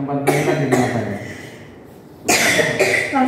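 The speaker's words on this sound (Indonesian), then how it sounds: "batuk saya" A person coughs up close, with a few rough bursts, a pause, and then another harsh round of coughing.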